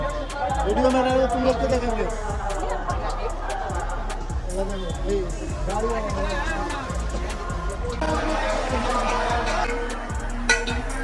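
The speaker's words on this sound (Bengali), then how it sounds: "এখানে খুবই ভিড় দেখতে পাচ্ছ, এখানে অনেক ভিড়।" A busy crowd at the main gate of the Shivgadi Dham hill temple, with constant chatter and babble, footsteps and scattered clicks, under close talk throughout.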